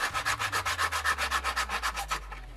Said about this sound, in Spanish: la esquina la hemos redondeado con la radial, con el disco de lija